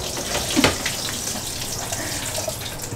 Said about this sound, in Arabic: هلا بدنا نصفي المي